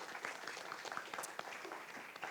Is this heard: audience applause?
yes